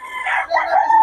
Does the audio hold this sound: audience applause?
no